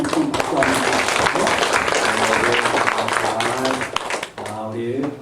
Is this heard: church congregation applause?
yes